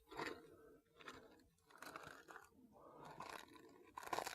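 Small dry sticks being crunched and snapped by hand in leather gloves outdoors beside a fire ring, a run of close, irregular crackling bursts that continue steadily without talk.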